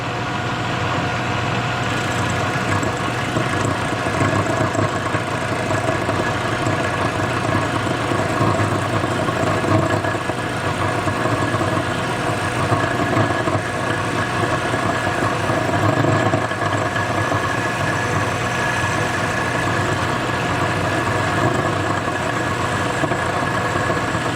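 A Shopsmith lathe motor runs steadily in a woodworking shop, a constant mechanical hum and whine that holds at a fairly even loud level throughout, with no speech and no clear audible rise in speed.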